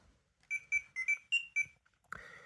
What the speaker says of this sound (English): Just then, Jason's communicator beeped